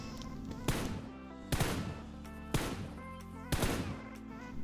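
PUBG Mobile gunfire cracks out in four sharp, loud shots or short bursts, spaced about a second apart over steady game background noise.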